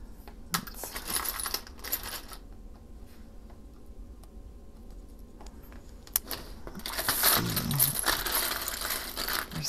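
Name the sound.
buttons rattling while being sorted through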